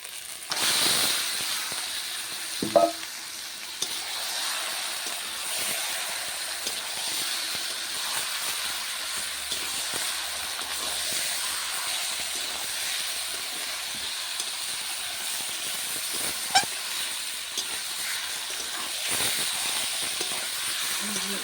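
Marinated chicken pieces hitting spices already fried in a pan for a home-style chicken kosha with potatoes, giving a steady, even hiss of sizzling that holds for the whole stretch, broken by a couple of faint clinks.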